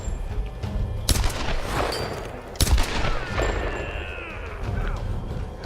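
Gunfire in the Tomb Raider video game: a few sharp loud shots and crashes over busy game noise, with someone speaking French faintly in between.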